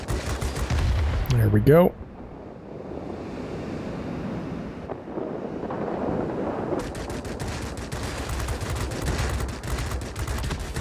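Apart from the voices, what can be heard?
flak and gunfire in the video game World of Warplanes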